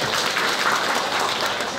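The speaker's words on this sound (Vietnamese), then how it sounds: "Xin trân trọng đổ một tràng pháo tay để chúc mừng." A congregation at a Vietnamese Catholic church ceremony, held for the installation of a parish leader, breaks into brief, full applause, a thick, continuous burst of many hands.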